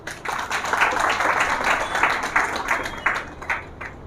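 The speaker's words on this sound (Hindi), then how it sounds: "तो माता जी की ताली बजाइए।" An audience at a devotional talk bursts into applause for a woman, a dense patter of hand claps rising quickly and holding steady for a few seconds before thinning out, with no voices over it.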